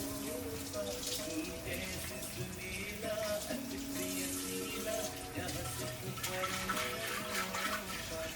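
Water pours into a clay matka in a home, with a continuous splashing and gurgling fill whose pitch shifts slightly as the pot fills, heard close and steady.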